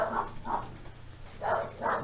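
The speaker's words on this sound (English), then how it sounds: "both of the dogs are downstairs barking" Two dogs barking downstairs in a house, four muffled barks in two pairs, heard from a distance at low volume with a quiet room between them.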